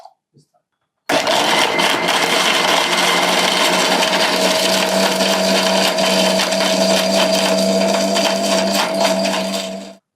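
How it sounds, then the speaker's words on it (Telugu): A mixer grinder whirs loudly and steadily for about nine seconds after a brief quiet start, blending dates and dry fruit with a little water into juice, then cuts off. "కొంచెం వేసేసి మిక్సీ పట్టేసేయండి"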